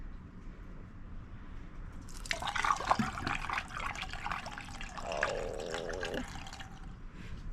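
Water gushes from freshly opened king coconuts, a close splashing pour that starts abruptly, runs a few seconds with bubbling and trickling, then settles into a fainter gurgling stream; a brief exclamation is heard.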